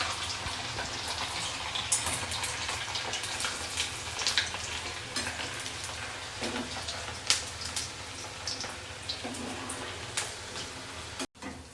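Fries sizzle and crackle in hot oil in a pan, a steady close frying hiss with scattered pops and bubbling, continuing alone with no talk.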